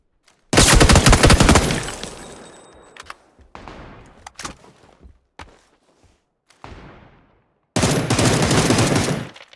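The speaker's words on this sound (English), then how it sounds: "They are literally shooting at the guy behind the rock." Gunfire in the video game PUBG, a loud sustained automatic burst up front, then scattered single shots and short volleys with echoing tails, ending in another heavy rapid burst.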